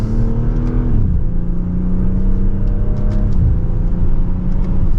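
2025 BMW X4 M40i accelerating in sport mode in second gear, a loud steady engine drone heard from inside the cabin, its pitch climbing then dropping briefly near the start and again later, continuous throughout.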